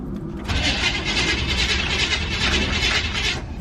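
A Dodge truck engine cranks over repeatedly without catching, a steady loud churning starter whir that runs for about three seconds before cutting off, with no talking.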